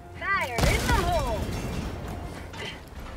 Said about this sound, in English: That was a loud explosion.